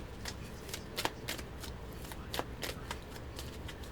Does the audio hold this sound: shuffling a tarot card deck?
yes